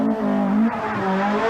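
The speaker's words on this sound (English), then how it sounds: "Englishman Phil Collins has the Cosworth Sierra up to fifth" A Ford Sierra Cosworth rally car on a 1986 Killarney Rally of the Lakes stage, its engine droning and revving loudly and steadily up close, with a brief surge of tyre noise.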